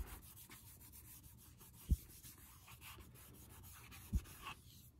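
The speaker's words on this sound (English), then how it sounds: "clean that area off with alcohol. Just regular rubbing alcohol. I'd wipe the whole area down." Soft rubbing and wiping on the surface of a motorcycle helmet with a cloth and regular rubbing alcohol, a faint continuous scrubbing texture close by with two brief knocks.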